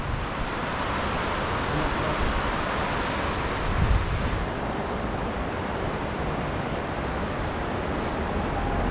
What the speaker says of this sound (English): Nice waterfall over there.